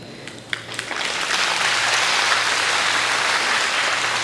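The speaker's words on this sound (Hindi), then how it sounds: "आपकी इस कविता पे आप अपनी तालियों की मोहर लगा दीजिए" Audience applause after a Hindi poem recitation at a kavi sammelan poetry gathering, starting with a few scattered claps and swelling into a dense, sustained round of clapping from a large crowd.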